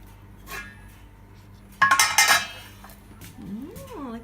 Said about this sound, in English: Take off the lid.